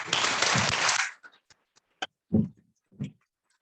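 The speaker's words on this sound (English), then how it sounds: "So I'm asking you all to give a great big clap for humanity." Audience applause at a Duchenne awareness day school gathering, a burst of full clapping for about a second that quickly dies down to a few scattered claps and taps.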